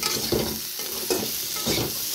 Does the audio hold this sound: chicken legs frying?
yes